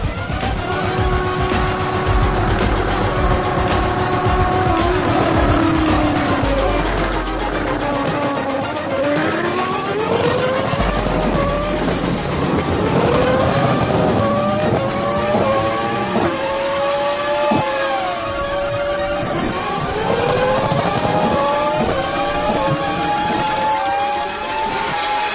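A car and a motorcycle race each other in a drag-style run, engines revving hard through rising gear-change sweeps, loud and close with repeated acceleration whines over about twenty-five seconds.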